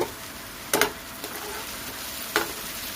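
Onions frying in a pan for egg masala curry give a steady, dense sizzle with a faint crackle, broken by two short, sharp scrapes of a spatula against the pan.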